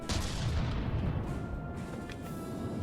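Ship weapons in the naval combat game From the Depths fire in a dense, continuous barrage of booming gunfire. The roar stays loud and unbroken throughout, with no voices.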